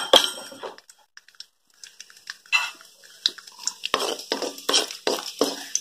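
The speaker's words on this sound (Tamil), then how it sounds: "மூணு ஸ்பூன் நெய் போட்டுக்கிறேன் அப்புறம் முந்திரி அதுக்கப்புறம் திராட்சை இது ரெண்டு போட்டுக்கிறேன் ரெண்டு போட்டுட்டு ஃப்ரை பண்ணிக்கலாம்" Cashews and raisins are fried in ghee in a kadai, with a spoon scraping and clinking against the pan in repeated short bursts, close and fairly loud, and a soft sizzle underneath.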